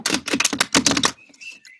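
Tarot cards, a Rider-Waite deck, riffle and snap in a rapid run of crisp, loud flutters for about a second, then trail off into faint ticks with a thin whistle-like tone.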